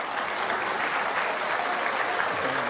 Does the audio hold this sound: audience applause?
yes